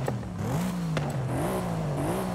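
A car's engine and exhaust rev repeatedly in Forza Horizon 5 after camshaft and exhaust upgrades, rising and falling in quick, loud bursts over a steady idle.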